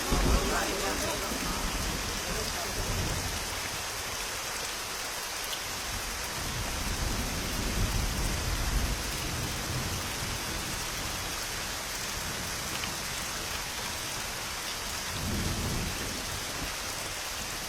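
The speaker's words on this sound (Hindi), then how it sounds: "चल बारिश हो रही है अम्मा" Steady rain pours down throughout, a dense continuous hiss of drops on surfaces with a faint low rumble that could be distant thunder; a few voices murmur faintly beneath it.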